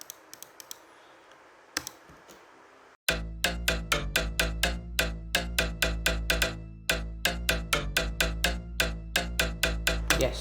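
Bass house synth lead with all effects switched off, dry and thin, a steady run of short percussive plucked notes over a sustained low tone after a few seconds of faint noise, close with no voices.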